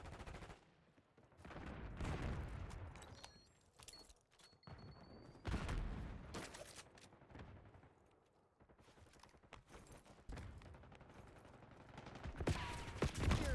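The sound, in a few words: AK rifle gunfire in a video game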